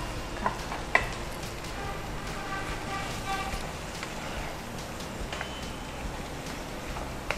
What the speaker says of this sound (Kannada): ಡೀಪ್ ಫ್ರೈ ಮಾಡಿರೋದನ್ನು ಇವಾಗ ಅದಕ್ಕೆ ನಾವು ಮಿಕ್ಸ್ ಮಾಡ್ತಾ ಇದ್ದೇವೆ